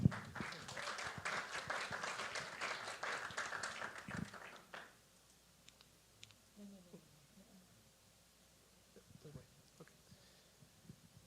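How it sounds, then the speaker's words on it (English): An audience at a Falling Walls Lab event in Ecuador applauds to welcome a speaker, with loud, dense clapping for about four seconds that then stops abruptly, leaving quiet room noise and faint stray sounds. "Please welcome with a very big applause, Andre Mosquera"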